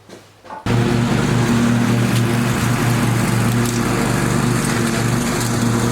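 A lawn mower runs close and loud with a steady engine drone after a brief quieter start, continuing unbroken while mowing at a farmhouse.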